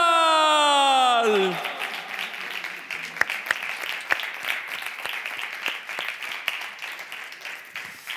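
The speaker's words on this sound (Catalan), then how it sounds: "no t'estima massa, han aplaudit" An audience at a comedic Catalan show applauds after a short musical fanfare ends: scattered, fairly thin clapping that carries on steadily for several seconds at moderate volume.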